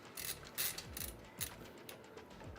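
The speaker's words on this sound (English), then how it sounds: "I really like this screwdriver. I don't use it for all of the build, but for the parts, I just really like the ratcheting" A ratcheting screwdriver clicks in quick, irregular bursts of small metallic ticks while assembling a PC, close and fairly faint.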